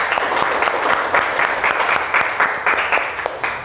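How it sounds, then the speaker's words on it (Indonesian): Steady, dense clapping fills an Indonesian dance-education classroom as the students applaud together, loud and continuous for the whole stretch without any talking. "Tepuk tangan untuk kita semua"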